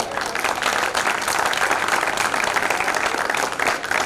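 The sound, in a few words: audience applause for the singer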